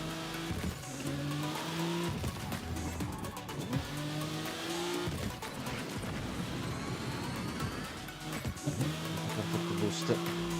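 Race cars roar through a lap of the video game Screamer, engines droning with shifting revs, tire squeals and skids, while a voice talks over the continuous racing noise.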